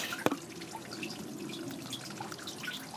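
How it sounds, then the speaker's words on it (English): Water runs through an original catch basin in an old abandoned spring house, heard as a faint continuous trickle and splash close to the mic. Near the start there is one brief knock. "you can hear that water is running"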